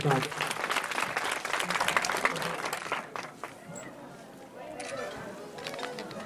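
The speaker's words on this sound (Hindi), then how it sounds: "आपसे जोरदार तालियों के साथ।" At a block-level sports competition ceremony, an audience bursts into loud applause that holds for about three seconds before fading out, leaving quieter speech and background noise.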